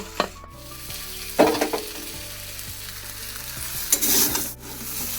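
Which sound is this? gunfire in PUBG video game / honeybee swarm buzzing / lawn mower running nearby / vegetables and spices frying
vegetables and spices frying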